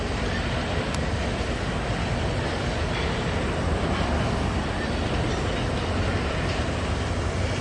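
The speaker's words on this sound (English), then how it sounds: "But here comes an empty westbound coal drag." An empty westbound coal freight train rolls past at Ashland, Nebraska, a dense, steady rumble and roar of wagons that holds constant and fairly loud from start to finish.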